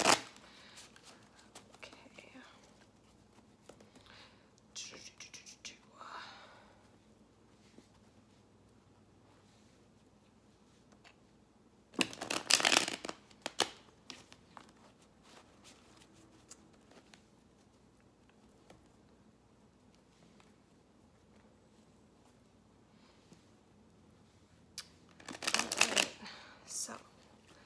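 Tarot cards being shuffled for a reading, two distinct bursts of riffling a few seconds long separated by long quiet stretches, with brief soft talk near the start.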